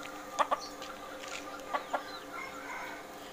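A hybrid jungle fowl chicken clucks in two short paired bursts, each a quick double cluck, heard close and clear over quiet rural background noise.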